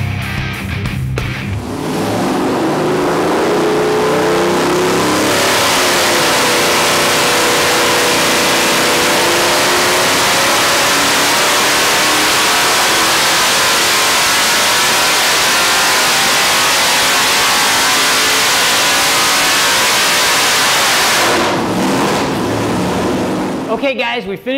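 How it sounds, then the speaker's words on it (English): A powerful modified 6-liter LS2 V8 on a dyno roars at sustained high revs for about twenty seconds, loud and steady with rising and falling harmonic tones, then cuts off abruptly. "with our modified LS2 assembled and ready for the dyno, let's make some noise"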